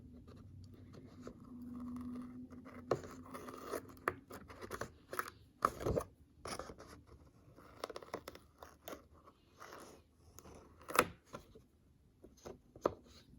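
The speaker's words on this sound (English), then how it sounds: "I'm going to go ahead and cut" Scissors cutting the edge off a Happy Planner floral sticker sheet, a close, irregular series of crisp snips and crunchy paper cuts with short pauses, fairly quiet and without talk.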